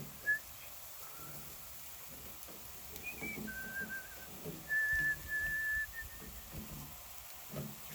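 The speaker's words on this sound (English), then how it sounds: "you're going to find that I whistle a lot" Someone whistles a few short melodic notes, thin and clear, with soft background noise and faint knocking underneath.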